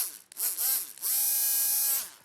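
An electric USB-powered sanding tool from We Are Tool-Makers whirs up close in two short high-pitched bursts, the first stuttering briefly and the second running steadily for about a second before winding down.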